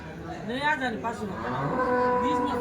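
An HF cow at the Dhule cattle market gives several drawn-out, rising and falling moos close by, over steady crowd noise and background chatter.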